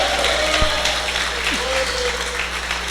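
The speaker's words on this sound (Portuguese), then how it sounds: "Aplauda mais forte, da glória a Deus," Church congregation applauding during a Portuguese-language sermon, dense steady clapping filling the room with a few scattered voices and whoops mixed in.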